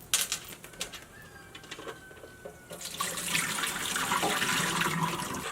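Hot water is poured off a pot of boiled eggs into a sink, starting as faint splashing and trickling, then becoming a steady, louder rushing pour for the last few seconds, with no talking.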